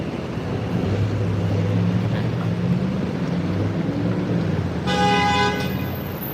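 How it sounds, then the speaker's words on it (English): Car horns honking in busy New York City street traffic near the Empire State Building, with low rumbling engine drone throughout and a loud, bright, sustained horn blast near the end, no talk. "Dang, it's all the honking,"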